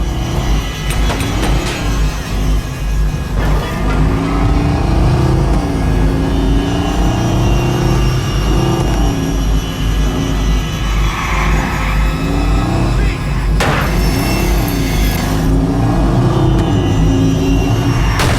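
A car engine in the video game Watch Dogs drones loudly and steadily as the car is driven, rising and falling in pitch, with a brief burst of noise near the end and no talking.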